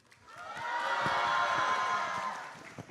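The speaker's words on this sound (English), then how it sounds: "can I have a cheer from the Chinese team" A team group in the audience at a Marketing Institute of Singapore welcome address gives a single cheer when asked. It swells quickly, holds for about a second and a half, then dies away.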